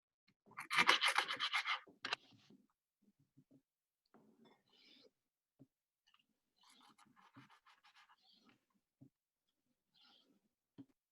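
A short burst of quick, breathy panting from a dog up close while fish is cut up for cooking, followed by faint scattered shuffling and soft intermittent breaths in an otherwise quiet room.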